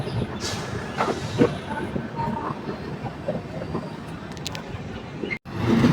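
An express train overtakes alongside a moving passenger train on the line toward Puri, giving a continuous rumble and clickety-clack of wheels up close, with a brief dropout near the end.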